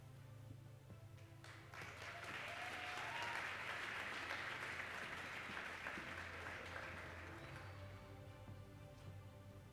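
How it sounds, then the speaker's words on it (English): Sustained audience applause honoring retiring school district educators at a recognition ceremony, a broad crowd of clapping that swells after a couple of seconds, holds steady, then tapers near the end. "Let's give one more round of applause for all of our amazing employees"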